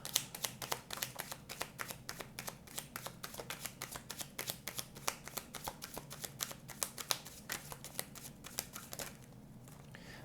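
Tarot cards shuffled by hand, a rapid run of crisp riffling snaps and flutters, close and fairly quiet, continuing steadily for about nine seconds before trailing off, with no talk.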